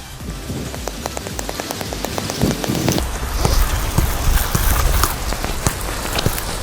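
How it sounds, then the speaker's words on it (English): Heavy rain pelts a football pitch in a dense, steady hiss, with scattered thuds and patters that grow busier over a few seconds. "Going in with a bit more intensive rain, hopefully."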